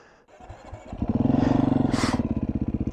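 A 2021 Beta 500 RRS dirt bike's engine builds from a low idle into a close, loud, rhythmic thumping pulse, each firing beat distinct, with no voices.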